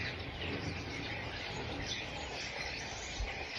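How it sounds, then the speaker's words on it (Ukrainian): Starlings chirp near a cherry tree, a dense, continuous chatter of many birds mixed with steady outdoor noise throughout. "Шпаки, хоч би вони не вбачили нашу черешню."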